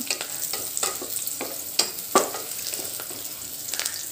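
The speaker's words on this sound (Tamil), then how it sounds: "பொன்னிறமாக வர வரைக்கும் நல்லா வதக்கிக்கலாம்" Onions sauté in oil until golden for paneer veg pulao, a soft continuous sizzle punctuated by occasional sharp spatula clicks and scrapes against the pan, close and moderately loud.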